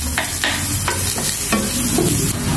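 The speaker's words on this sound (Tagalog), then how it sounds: "Naglagay na po ako dito ng luya. I-brown lang po natin ito." Ginger, garlic and onion stir-fry in a pan for spicy chicken feet, a loud close sizzle with several quick scraping stirs of a spatula against the pan.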